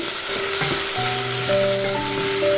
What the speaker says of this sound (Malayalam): ചെറുതാക്കി നുറുക്കിയെടുത്തത് ഒന്ന് വഴറ്റി കൊടുക്കാം